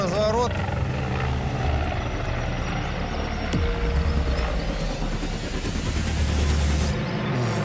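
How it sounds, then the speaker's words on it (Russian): A Mi-35P military attack helicopter banks through a combat turn, its rotor and turbine drone loud and continuous from start to finish, with people talking over the noise inside. "В настоящее время летчики делают боевой разворот."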